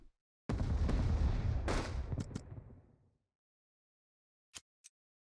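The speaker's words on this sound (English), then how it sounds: "So next up, we'll use a naval bombardment." A naval bombardment in the Unity of Command II strategy game, heard as a loud, close booming barrage lasting a few seconds that decays into silence, then two brief faint clicks.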